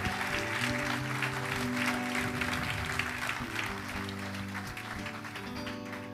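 A church congregation applauds during a worship service, a broad round of clapping layered over sustained organ or keyboard chords, gradually easing toward the end.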